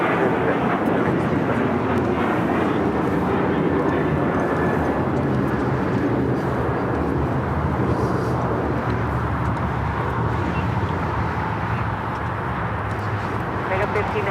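An airliner takes off from runway 25 right at Los Angeles LAX, its engines giving a loud, steady roar that holds for the whole stretch, with radio chatter mixed in.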